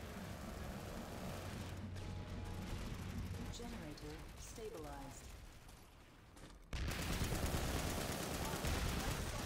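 Gunfire crackles through a Planetside 2 Bio Lab firefight, rapid overlapping shots with someone talking over the first part, before a sudden loud burst of fire takes over near the end.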